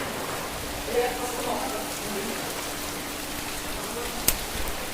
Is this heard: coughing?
no